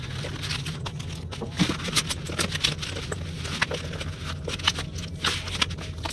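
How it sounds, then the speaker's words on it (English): Tarot cards being shuffled by hand, a steady run of soft slaps, riffles and crisp clicks close to the microphone, with no talking. "I'm just really trying to shuffle these, not the way they're supposed to be shuffled."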